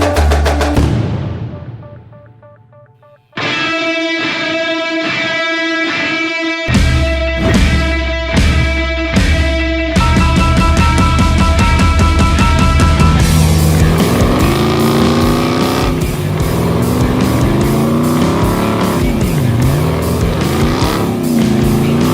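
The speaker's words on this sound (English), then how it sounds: "Now it's time to go hop in it with James, take it for a couple laps around the track" A Hennessey TRX Mammoth 1000 truck engine roars continuously, revving through gear changes as it speeds around a track, loud and close with no talking.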